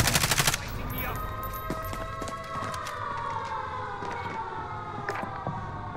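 Rapid video game gunfire, a fast burst at the start followed by scattered shots over a siren-like rising and falling tone, loud and close.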